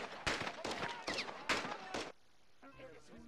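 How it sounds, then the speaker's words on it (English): Gunfire in the video game Call of Duty Modern Warfare 2, with five sharp, loud shots in quick succession followed by quieter background game sounds. "We're taking fire"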